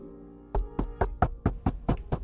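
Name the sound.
knock on a door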